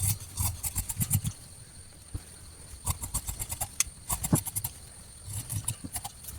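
Scissors cut through cloth for a sewn top in quick bursts of crisp snipping and fabric rustle, pausing between runs of cuts, close up and with no speech.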